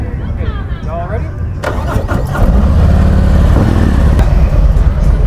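A Harley-Davidson motorcycle engine at Ohio Bike Week 2023 cranks and catches, then settles into a loud, steady low rumble at close range, with someone speaking just before it starts.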